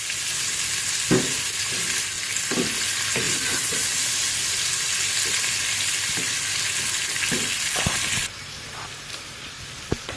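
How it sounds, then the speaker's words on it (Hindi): Onion fries in oil in a pan alongside okra for bhindi masala, giving a loud continuous sizzle with scattered stirring clicks and taps, and the hiss thins slightly near the end. "हम साथ में अनियन को भी, प्याज को भी फ्राई कर रही हूँ जब तक सॉफ्ट हो जाता है"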